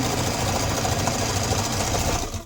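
An electric sewing machine stitches through several layers of fabric around a silverware holder, a fast, even mechanical whir running unbroken at close range, with no talking.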